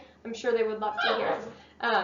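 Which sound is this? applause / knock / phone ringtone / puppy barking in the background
puppy barking in the background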